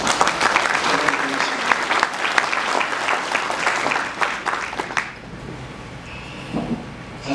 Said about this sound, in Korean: 큰 박수 부탁드리습니다